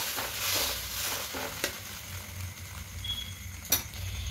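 A spoon stirs cornflour slurry into chilli soybean in a hot pan, a soft continuous sizzle with scraping strokes and a couple of small clicks against the pan, no talking.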